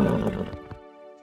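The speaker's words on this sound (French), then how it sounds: "C'est le cheval Pégase!" A cartoon winged horse, Pegasus, gives a short loud neigh with a whinnying tail that trails off within about a second, heard alone up close.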